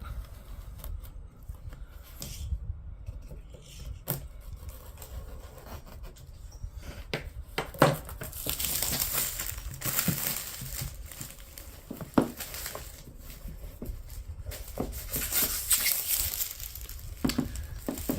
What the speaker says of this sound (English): So we're going to go ahead and cut the cellophane. Or the shrink wrap, whatever you call it.